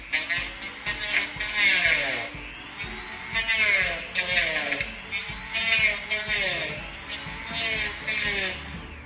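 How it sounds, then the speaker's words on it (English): A handheld Dremel rotary tool cuts a notch into a steel hacksaw blade, whining in repeated bursts that rise and fall as the cut proceeds, close and fairly loud. "I'm gonna use my Dremel to cut a notch into the hacksaw because it's a little bit faster."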